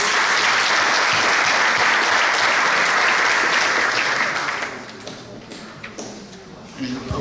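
A crowd applauding at a swearing-in ceremony for the Ecublens executive after two candidates are elected by acclamation, a dense burst of clapping that tapers off after about four seconds into scattered claps and murmurs.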